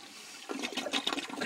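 A toilet flushing in a quiet room: a short hush, then a gurgling, sloshing rush of water that surges unevenly, fairly close and alone.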